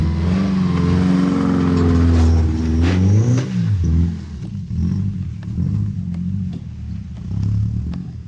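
An old, cheap, worn-out Subaru car labors up a steep hill, its mid-pitched engine revving and straining with rising then falling tone, loud and close, easing into uneven lower surges.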